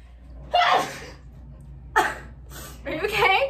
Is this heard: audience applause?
no